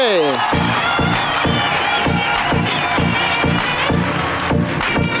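Studio audience at a Kannada TV game show breaking into loud applause and cheering, with rhythmic clapping, whoops and shouts throughout, while a host speaks over the noise.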